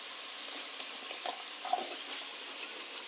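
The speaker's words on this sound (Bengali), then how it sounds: "এখন তরকারিগুলো ভালো মতন কষাই নেব" Vegetables and spices sauté in a pan for a winter fish curry, a soft, even sizzling hiss with a few faint scrapes of stirring, no voices.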